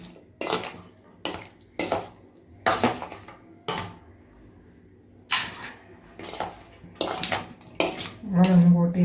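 Boiled cauliflower mixed and coated in batter in a bowl for gobi Manchurian, with a spoon clinking and knocking against the bowl in repeated bursts.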